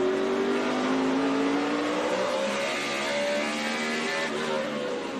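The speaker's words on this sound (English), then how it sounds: "Listen to that engine." NASCAR stock car engine roaring at the 2012 Goody's Fast Relief 500, a loud sustained high-revving drone with shifting pitch, heard close and continuous without talk.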